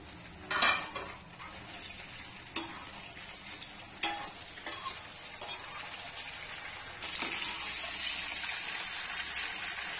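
Ingredients sautéing in a pan make a soft, continuous sizzle, with a few sharp metallic clinks and scrapes from stirring utensils against the pan.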